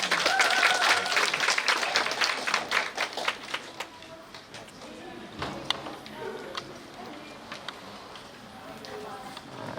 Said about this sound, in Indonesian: Kita sambut bersama dengan tepuk tangan yang meriah moderator kita pada siang hari ini.